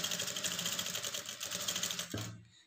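A sewing machine runs fast and steadily, stitching a blouse lining with a half-inch seam allowance, a close even rattle of needle strokes that slows and stops near the end.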